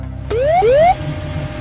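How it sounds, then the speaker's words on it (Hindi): Cockpit warning alarm on Aerosucre Flight 157 during a takeoff accident: two loud rising electronic whoops in quick succession, each with bright harmonics, over a low steady rumble. "कॉकपिट में वार्निंग अलार्म जोर जोर से बज रहे हैं"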